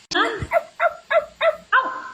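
A person imitating a duck with a voice, giving six short, evenly spaced nasal quacks in a steady rhythm, close and fairly loud, sounding somewhat like barking.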